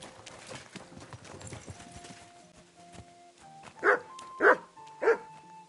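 Horse hooves clip-clop softly in Kingdom Come: Deliverance 2, a loose run of light hoof knocks, then three louder, sharp tonal calls close together near the end.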